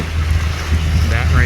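Wind buffeting a shanty boat crossing an inlet, a steady low rumble of wind noise against the microphone with a brief rising whistle near the end, loud and close.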